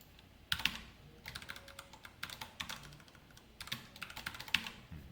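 Code being typed on a computer keyboard in bursts of rapid, close key clicks separated by short pauses, with no talking.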